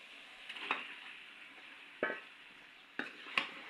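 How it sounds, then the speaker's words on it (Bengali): Meat stirred into a pan of fried spices and dried chili, a soft steady sizzle broken by four sharp scraping knocks of the spoon against the pan, fairly quiet and close. "মশলা কষে নিয়ে আসে, এখন মাংস ঢেলে দিব"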